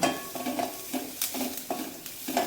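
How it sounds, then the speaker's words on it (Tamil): Onions frying in a pan for a cabbage dish, a soft steady sizzle broken by a string of stirring scrapes with a utensil, close and moderately quiet. "இது நல்லா வெங்காயம் ஃப்ரை ஆகட்டும்"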